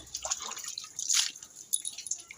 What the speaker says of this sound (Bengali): আমগুলাকে পরিষ্কার করে ধুয়ে নেওয়া হচ্ছে